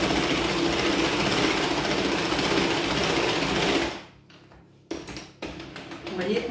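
Electric mixer beating cake batter for a tuna crust cake at speed 1, a steady loud motor whir that cuts out near the middle, then restarts unevenly with scraping bumps.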